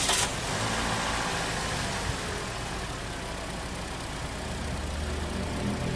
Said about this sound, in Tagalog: pa-start mo na itong makina